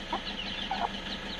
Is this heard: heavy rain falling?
no